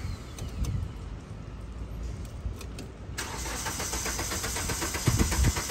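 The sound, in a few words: car engine cranking but failing to start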